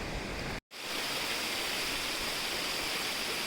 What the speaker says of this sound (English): I think this is the waterfall that the people in the Shillith village were talking about